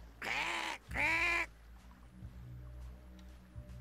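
Two loud, drawn-out harsh seagull cries sound in quick succession in the video game Risen 3, each about half a second long, followed by quiet ambient background.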